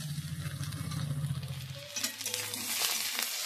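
Cauliflower stalks are stirred and fried in a pan, giving a soft, continuous sizzle with a low hum early on, then scraping and clattering of the stirring utensil in the second half, close and fairly quiet.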